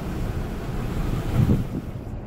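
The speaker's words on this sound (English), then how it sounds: "I like this wind in my face." Wind buffets a microphone during a ride through a hurricane-damaged neighborhood, a continuous low rumbling roar, close and fairly loud with no talk.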